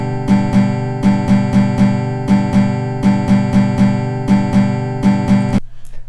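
Guitar chords played on BandLab's built-in instrument, a loud, clean sequence of strummed chords in a steady rhythm with paired hits, about a dozen chord strikes before stopping abruptly.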